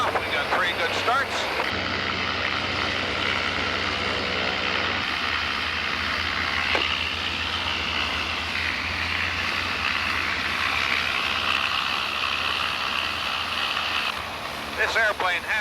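Three engines of a Bushmaster trimotor airplane idle steadily after start, a loud continuous propeller drone held close and even throughout, with the broadband roar and low hum filling the whole stretch.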